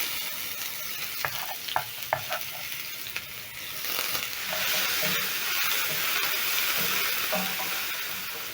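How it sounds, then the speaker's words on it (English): Chopped onions frying in a pan over medium heat, a steady close sizzle with scraping stirs and clinks early on, the frying hiss swelling louder and fuller in the second half, no voices. "I'm going to be transferring my onions in a pan over medium heat."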